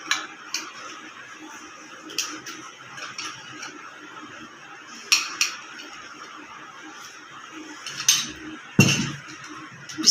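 Spoons and dishes clink and tap sharply at close range as boiled sago pearls go into peach juice for a summer drink, irregular knocks with a louder clatter near the end.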